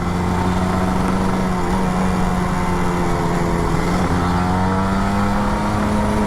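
A Kawasaki Ninja RR 150 two-stroke motorcycle engine runs steadily and loudly throughout, with a strong droning tone and slight rises in pitch as it is revved, with no talking.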